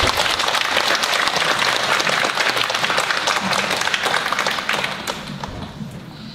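A concert-hall audience at a choral concert applauding to welcome the conductor, with loud, dense, sustained clapping that thins and fades toward the end.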